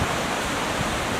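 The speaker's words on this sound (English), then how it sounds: "what I pointed out in the background was the water coming down" Water coming down from a beaver pond, a steady rushing wash of falling water, close and constant across the clip with no voices.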